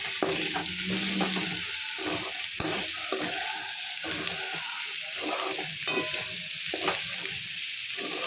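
A drumstick and carrot fry with peanut powder sizzles steadily in a pan while a spoon stirs it, scraping rhythmically, loud and close throughout.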